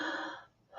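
A single deep inhalation, close and breathy, fading away after about half a second with no talk over it.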